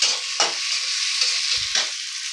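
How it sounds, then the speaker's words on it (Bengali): Onion frying in oil in a pan, a loud continuous sizzle with a couple of brief stirring scrapes and bursts. "ও পেঁয়াজটা একটু ভাজা ভাজা হয়ে এসছে।"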